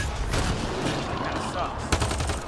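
Weapons fire in Mass Effect Andromeda crackles in a dense, loud stream of rapid shots, with a sharper burst near the end.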